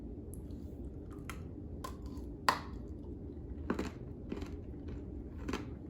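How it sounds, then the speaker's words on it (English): Someone crunches and chews a zero-calorie Oreo-style cookie up close, with sharp bites and several crisp crunches spread irregularly over quiet room tone. "The crunch"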